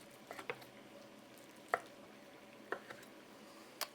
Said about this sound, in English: I'll cut across them to get my bite-sized chunks here.